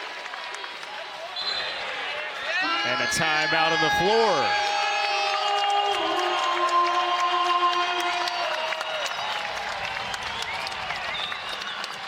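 Basketball arena crowd applauding and cheering loudly at a Kennesaw State Owls game after a Simeon Cottle step-back three, sustained roar under a commentator's voice with a sneaker squeak or whistle-like tones early.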